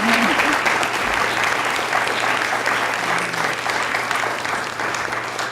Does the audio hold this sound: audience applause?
yes